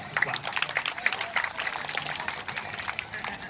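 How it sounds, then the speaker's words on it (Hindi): An audience of women at a devotional Shiva katha gathering claps, with a dense, even patter of many hands sounding moderately distant and continuing throughout. "हाँ, तालियां बजा रही माता"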